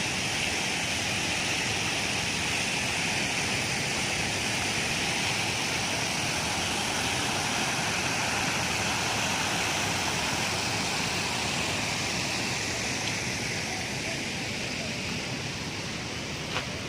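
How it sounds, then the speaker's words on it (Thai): Water rushing over a dam at Wang Lao rafting site in Loei, Thailand, a steady dense waterfall-like roar filling the scene without a break, loud and close. "มันมีเขื่อน เขื่อนแล้วเป็นแบบเสียงน้ำตก"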